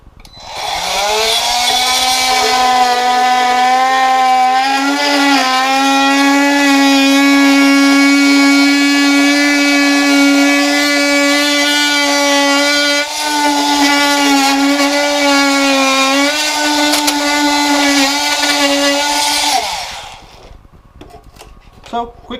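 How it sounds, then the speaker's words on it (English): A Milwaukee M12 cordless multi-tool, model M2426-20, saws through hardwood flooring with a loud, steady oscillating buzz that holds for about twenty seconds before cutting off, with no talk over it. "You can just take a piece of the hardwood floor and use it to guide the saw up and make a nice perfect cut that's just above the height of the floor."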